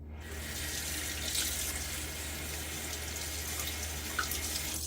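Steady tap water rushes into a sink, a close continuous hiss, while a Maggard V3A safety razor holding a Gillette Silver Blue blade is rinsed off.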